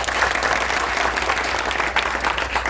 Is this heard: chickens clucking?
no